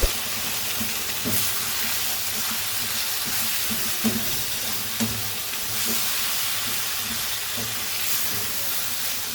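Mutton keema sizzles steadily in a pan while being mixed with garam masala powder, constant frying hiss with soft irregular scrapes and taps of the spoon throughout.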